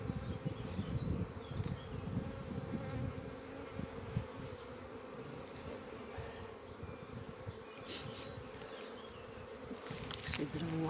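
Buckfast honey bees buzz steadily from an open hive during an early summer inspection, a dense, continuous close-up drone with slight swells, individual bees flitting near the microphone now and then.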